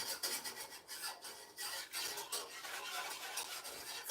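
A metal whisk stirs and scrapes cream cake filling against the bottom of a pan in quick, rough, rasping strokes. The scraping is close and fairly quiet, with irregular bursts and no talk.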